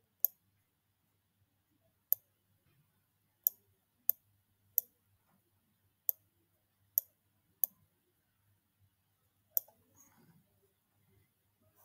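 Sharp computer mouse clicks while working with a curvature tool in vector graphics software, about ten distinct clicks spaced irregularly over the stretch, close and crisp against a quiet background hum, with a faint rustle near the end.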